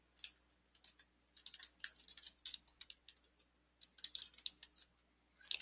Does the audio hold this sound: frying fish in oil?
no